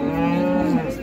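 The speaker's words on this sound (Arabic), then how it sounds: "كما تشوفوا الخيرات تاع البقرة الوالدة هنايا في السوق الأسبوعي بمدينة سطات" A cow lows loudly and steadily at a weekly livestock market in Settat, a single sustained moo filling the whole second, close to the listener.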